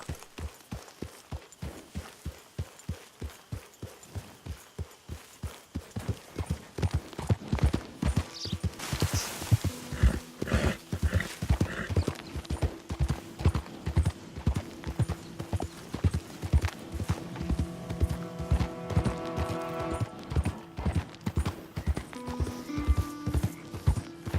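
Horse hooves clip-clopping steadily in the video game Red Dead Redemption 2, a regular close rhythm of hoofbeats that grows louder midway, with a brief whinny-like sound and other game audio layered over it.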